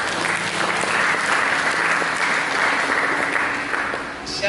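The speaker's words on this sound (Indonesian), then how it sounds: "Mari kita berikan tepuk tangan." Steady applause from a church congregation during a sermon, dense and sustained for several seconds before starting to taper off near the end.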